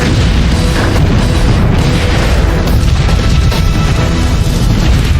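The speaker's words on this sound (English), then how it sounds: "Artillery stockpiles are set off, shooting skyward and touching down across the city, causing a deadly chain of explosions." A chain of explosions rips through an artillery ammunition stockpile in a city as one loud, continuous roar of overlapping booms and blasts. The dense, rumbling barrage does not let up from start to finish.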